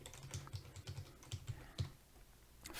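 Quiet keystrokes on a computer keyboard while code is being typed, a dozen or so soft, closely spaced taps in uneven bursts with short pauses, heard close up and alone.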